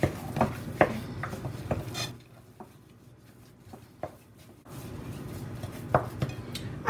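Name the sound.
mixing fish ball mixture with fresh red pepper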